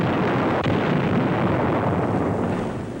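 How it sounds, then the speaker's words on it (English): Bangalore torpedoes and grenades detonating in wartime combat in 1943, a continuous loud rumbling roar of blasts with a sharp burst near the start, with no voices. "blowing them apart with bangalores and grenades"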